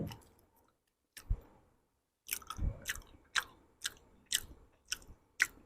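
Close, crisp chewing and moist mouth sounds from eating soft Bengali sweets such as rosogolla, kala jamun and golap jamun, in an irregular rhythm of bites against near silence.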